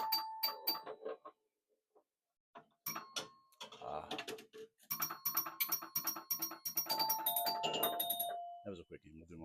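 Bright electronic bell chimes and rapid dings ring out in bursts from a Bally Night Rider pinball machine, with clattering mechanical hits between them, fairly close and loud.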